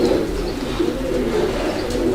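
A racing homing pigeon from a long-distance champion line coos in low, continuous murmuring throbs, close and steady, alone without talk, faint chirps flickering above.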